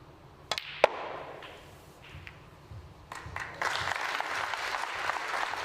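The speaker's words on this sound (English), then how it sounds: "A round of applause" Snooker audience at a WST Classic quarterfinal, with a few sharp cue-ball knocks first, then applause that builds and holds steady through the second half.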